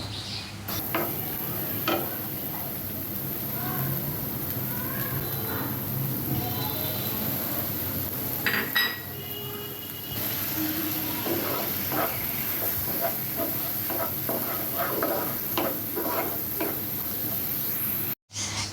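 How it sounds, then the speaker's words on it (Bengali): Fish masala for tel koi frying in a pan, a steady hiss and sizzle with intermittent stirring scrapes, close up, and no talking. "মাছের মশলাগুলো আমি একটু ভালোভাবে সময় নিয়ে কষিয়ে নিচ্ছি"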